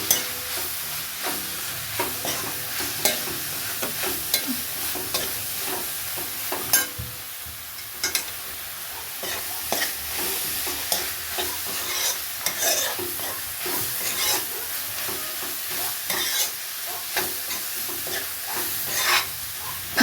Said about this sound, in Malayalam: ഈ ഉള്ളിയും ഈ പൊടികളും എല്ലാം കൂടി ഒരുമിച്ച് യോജിപ്പിച്ച് നല്ലോണം ഇളക്കി